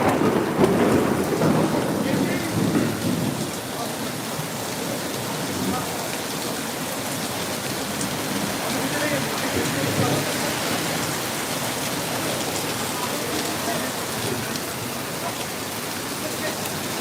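Heavy summer rain pours down steadily while thunder rumbles loudly at the start, then a dense, constant downpour hisses on for the rest.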